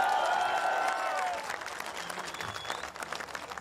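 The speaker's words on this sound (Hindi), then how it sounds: "इन लोगों के लिए ताली।" Audience applause at a show where a performer hosts a Christmas stage event, a dense crowd clapping at moderate loudness that thins slightly partway through, with a faint voice underneath.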